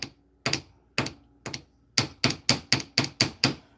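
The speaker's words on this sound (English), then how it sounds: "you just take the chase hammer and you tap and push out" Chase hammer tapping on metal in a jewelry workshop: about a dozen crisp, ringing strikes, first spaced, then a quick even run of taps, close and alone.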